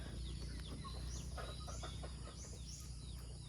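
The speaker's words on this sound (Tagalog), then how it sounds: "Ayan, dito umiikot-ikot yung mga manok." Chickens cluck and chatter quietly at a distance over a constant outdoor hum, with a few brief higher calls mixed in, circling at morning feeding time in the Philippine countryside.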